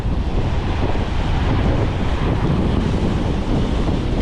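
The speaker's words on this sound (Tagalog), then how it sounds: "grabe, ang laki ng alon" Heavy surf and gusting wind roar continuously, a dense, loud wash of crashing waves buffeting the microphone with no voices.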